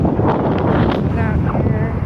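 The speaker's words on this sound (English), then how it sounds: "Wind blowing." Gusty wind buffets the microphone outdoors on a blustery day, a loud, continuous rumbling roar throughout while someone walks.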